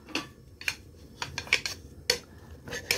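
Beef brisket stir-fried with a spicy meal-kit sauce in a pan, heard as sharp metallic utensil clinks against the pan, about six distinct taps spaced unevenly over a low background rumble.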